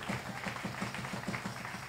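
Applause from a church congregation during a sermon, a dense steady patter of many hands clapping with faint rhythmic accents, moderately distant and continuous throughout.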